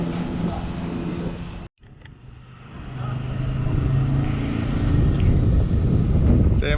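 A car approaches on a forest trail in Floresta, Paraná, its engine rumble swelling steadily louder toward the end amid gusty wind noise on the microphone, while people talk nearby.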